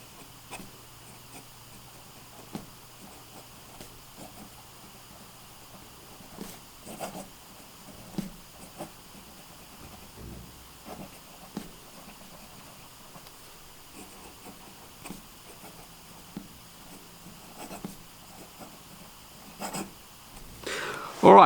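A Wing Sung 698 piston fountain pen with a fine nib writes on Clairefontaine paper, making faint, soft scratching strokes with small taps and pauses throughout a quiet stretch.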